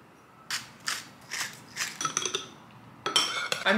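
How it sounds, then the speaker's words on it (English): Olive oil, lemon juice and chopped garlic stirred together in a small bowl, heard as a utensil clinking and scraping against the bowl in a series of separate, close strokes with short gaps between them. "I'm just going to mix it all together in a little bowl."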